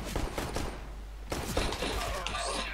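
Gunfire in the video game Counter-Strike: Global Offensive crackles in quick bursts, a rapid volley at the start followed by more scattered shots and thuds, loud and close with a player's voice briefly heard.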